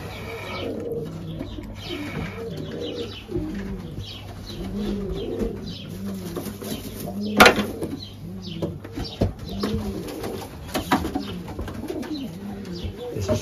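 Young racing pigeons coo in soft, repeated rolling calls close by, with a few brief knocks and a faint steady hum in the background.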